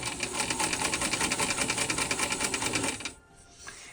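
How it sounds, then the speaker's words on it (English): A sewing machine stitching fabric in a fast, steady mechanical rattle for about three seconds, then stops abruptly, leaving quiet. "I'm gonna sew this 2 pieces together"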